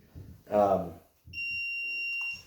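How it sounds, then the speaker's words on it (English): An alarm system chirps a steady, shrill electronic tone for about a second, signalling a battery needs replacing, with people talking just before it. "you get to hear the beeping of the alarm system telling us to replace a battery"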